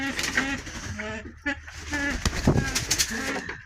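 Pigeons coo and flutter close by, with soft throaty calls mixed among voices talking over them.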